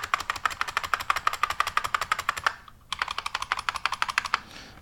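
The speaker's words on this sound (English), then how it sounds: "So this is called a buckling spring keyboard" Rapid, loud, crisp key clacks from an IBM Model M buckling spring keyboard in fast rhythmic bursts, a short pause midway, then more typing.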